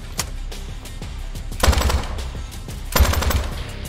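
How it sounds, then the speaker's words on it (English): Mounted gun firing in a video game, two loud rapid bursts of automatic fire about a second long each, punchy and close, separated by quieter clicks and background game sounds. "Oh, there is a mounted gun."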